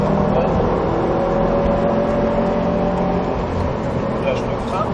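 A Subaru WRX STI accelerates harder and harder on a driving course, its engine a loud, steady rising drone heard from inside the car while an instructor talks over it.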